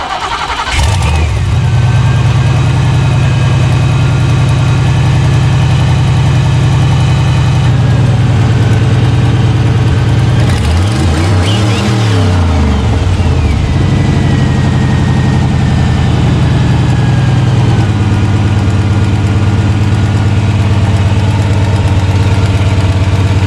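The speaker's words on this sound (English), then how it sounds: "we're gonna give it a first fire for the first time and see how this 76mm runs" A car engine fitted with a bigger 76mm turbo cranks and fires up for the first time, then settles into a loud, close, rumbling idle, with a brief rise and fall in revs midway.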